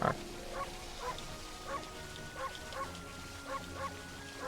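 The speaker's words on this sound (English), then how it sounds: "Bark, bark, bark." Amaterasu, the wolf in a video game, barks in a string of short, regular yelps at moderate distance over a steady musical backdrop, with no talking.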